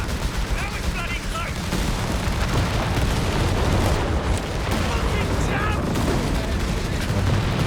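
A 6-pounder gun fires amid the chaotic din of a Company of Heroes 3 battle, with booms and gunfire layered densely throughout while a voice talks over it.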